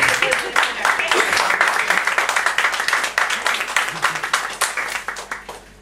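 An audience at a Toastmasters public speaking meeting claps together, a loose, rhythmic patter of hands with distinct individual slaps, and voices murmur beneath it throughout.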